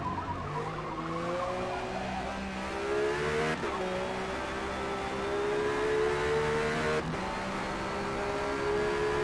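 A Ferrari GTX race car engine runs hard in Forza Motorsport at Daytona. It revs up in rising steps, breaks off with sharp gear shifts, then climbs again, loud and close, with tires squealing. Someone talks quietly underneath.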